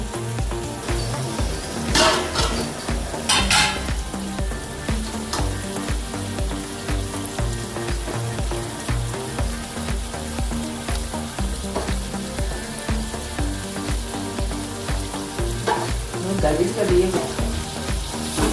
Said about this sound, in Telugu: కాబూలి శనగలు, పచ్చిమిరపకాయలు బట్టర్లో కొంచెంసేపు అట్లా మగ్గనియాలి